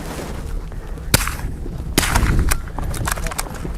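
Rimfire rifle shots in an outdoor match in arctic cold of minus 38 C, a handful of sharp cracks spaced irregularly over steady background noise, fairly close.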